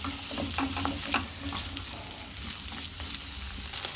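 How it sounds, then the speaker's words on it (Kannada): Onions frying in a pan for vegetable pulao cooked in a pressure cooker, a steady close sizzle with occasional scrapes of a stirring spoon, no voices. "ಈರುಳ್ಳಿ ಎಲ್ಲ ಈ ರೀತಿಯಲ್ಲಿ ಫ್ರೈ ಆಗುವಾಗ"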